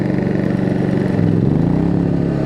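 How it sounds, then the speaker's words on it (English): An RV air conditioner compressor kicks on while a Westinghouse iGen 4500DF dual-fuel generator runs under load, giving a steady, loud engine drone whose pitch dips and shifts midway as the load hits. "now we'll wait for that compressor to kick on"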